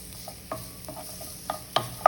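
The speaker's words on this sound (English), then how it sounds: "To my pan, I'm going to be adding some olive oil. And I'm going to be sauteing my onions and my garlic." Onions and garlic saute in olive oil in a pan, with faint steady sizzling beneath a few soft scrapes and taps of stirring, close and quiet with no talking.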